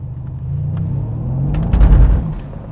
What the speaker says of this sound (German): Das sind die Reifen, die durchdrehen.